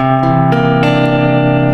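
A guitar rings out a rich, colorful 9 chord with a flat seventh, plucked and strummed a few times in quick succession, sustaining clearly with no voices.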